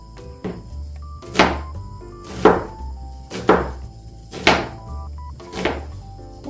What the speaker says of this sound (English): While the water is boiling, we can cut these vegetables.